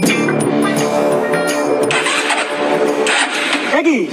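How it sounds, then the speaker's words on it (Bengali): A car engine cranks repeatedly but fails to catch, outside a garage after a wash. The grinding starter churns in uneven bursts while people talk over it. "কি গাড়ি স্টার্ট হচ্ছে না কেন?"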